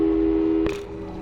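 A steady electronic telephone tone from the video game Portal 2 hums on one pitch, interrupted by a short click, then continues slightly quieter.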